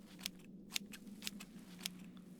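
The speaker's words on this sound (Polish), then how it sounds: "Dawaj nożyczki, wytniemy to." Four crisp scissor snips at a steady pace cut through a papercraft object in the adventure game Zagubione Światy 2: Czterej Jeźdźcy, each sharp click standing out over a low continuous background hum.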